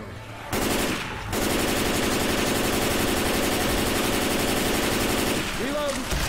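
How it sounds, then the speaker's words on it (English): Rapid, sustained automatic gunfire from a video game gun rattles loud and close for several seconds, starting after a brief pause and easing off at the end. "Jesus, this gun's loud."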